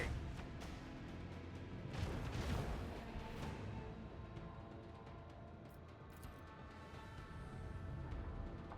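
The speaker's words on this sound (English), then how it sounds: "Macro cannons, volley!" Macro cannons fire a volley in Warhammer 40,000: Rogue Trader, a heavy booming blast that swells into a rumbling roar and slowly fades under a continuous low battle drone.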